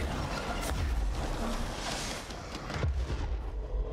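Rocket blasts and booming impacts in the action video game Control, a dense run of explosive bursts with a sharp thud near the end, loud and continuous with no talk.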